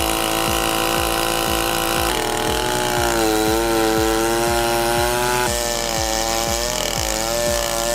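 A freshly rebuilt Stihl 090 AV chainsaw cuts into an oak root ball. Its loud, close engine holds a steady low-revving drone with rhythmic firing pulses, and the pitch climbs as it bears down, with no voices.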